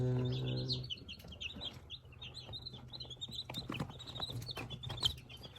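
Many newly hatched chicks peep in quick, high, overlapping chirps close by, with a brief low hum at the start and soft rustling beneath.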